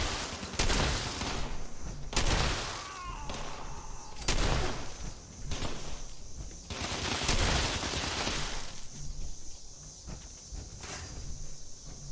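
Gunshots ring out in Fallout 76, a series of loud, sharp cracks spaced irregularly a second or two apart over a steady background rumble, with faint footsteps in between.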